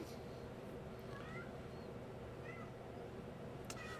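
A cat meows a few times indoors, the calls faint and high against a steady room hum and low background noise.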